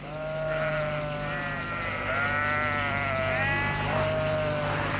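Sheep bleating out on a hillside pasture, several drawn-out wavering calls that overlap and recur steadily against a noisy outdoor background, with no talking.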